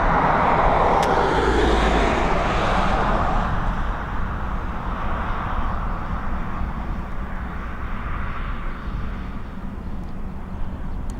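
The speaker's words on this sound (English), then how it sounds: "There we go, we've got an ATR up and away." An ATR turboprop airliner takes off at Dublin Airport with a loud, broad engine roar. The roar is strongest at the start, then slowly fades as the plane climbs away. No voices are heard.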